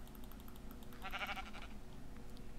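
Sheep bleat in a blocky Minecraft-style game world, a short wavering cry standing out clearly over a steady low hum of background noise and game sound.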